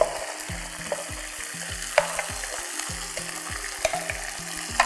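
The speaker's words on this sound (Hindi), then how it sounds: "टाइम ना ज़ाया करते हुए फटाफट से इसमें डालेंगे कलेजी।" Goat liver (kaleji) frying with lightly browned onions in a pan, a continuous crackling sizzle with scattered spatters and a low repeating background hum.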